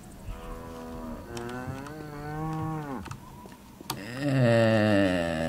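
Repeated long, drawn-out cow moos from livestock in the video game Postal 2, several overlapping low bellows with wavering pitch, the last one loudest and closest.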